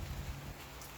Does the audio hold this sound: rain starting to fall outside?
yes